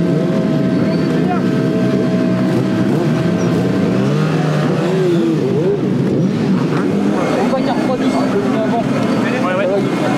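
A racing motorcycle engine revs loudly and continuously nearby, its pitch climbing and falling in throttle sweeps, with voices talking underneath.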